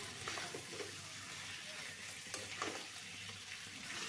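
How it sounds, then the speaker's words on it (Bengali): Chicken pieces being stir-fried with spices in a pan, giving a steady close sizzle with scraping stirs and soft clinks throughout, no voices. "এবারে খুব ভালো করে মশলার সঙ্গে চিকেনটাকে কষিয়ে নিচ্ছি।"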